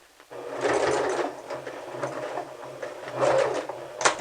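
A sewing machine backstitches along the edge of a fabric purse at the 3/8 inch mark, running in short, fast mechanical bursts with brief pauses and a clack near the end.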